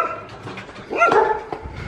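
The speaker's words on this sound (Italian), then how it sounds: "Il cane." A dog gives a few close yips and barks with whimpery tones, short and irregular, in a domestic setting.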